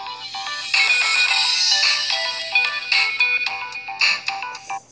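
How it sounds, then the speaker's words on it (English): AT&T Play On ringtone on a Samsung Galaxy S7 phone, a bright synthesized melody of quick chiming notes that plays loud and alone, with rhythmic bursts continuing through the whole stretch. "Here's AT&T Play On."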